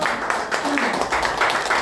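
Guests at a 70th and 61st birthday celebration clap for the godfather, a dense, steady patter of many hands filling the room throughout, with voices mixed in under it.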